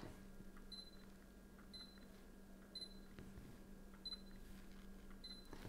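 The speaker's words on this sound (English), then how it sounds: "all you heard basically was the beep that was signaling focus lock" A camera with a Zeiss Batis 40mm F2 lens gives a short, faint, high electronic focus-lock beep about once a second, five times, over a quiet hiss.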